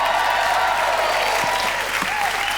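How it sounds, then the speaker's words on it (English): A studio audience on a 1994 UK quiz show applauds a contestant with dense, steady clapping that fills the room, loud and sustained throughout. "Round of applause for Sean"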